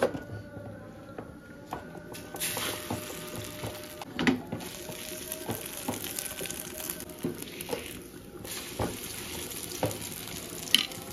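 Egg-batter-coated luchi fry in hot oil in a pan, giving a steady crackling sizzle with scattered louder pops and the occasional scrape of a utensil.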